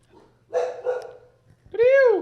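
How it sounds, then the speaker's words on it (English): Dogs bark close by in a few sharp bursts, ending in a rising yelping howl, with people talking around them in a room. "Sorry, we got the dogs going."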